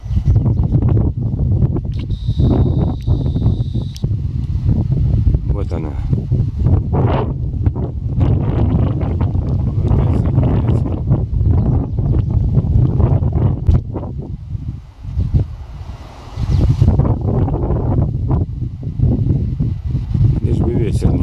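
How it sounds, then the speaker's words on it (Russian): Strong mountain-top gusts in the Southern Urals buffet the microphone, producing a continuous low rumble and roar that swells and dips throughout, with a faint bird call briefly rising above it. "Лишь бы ветер не мешал"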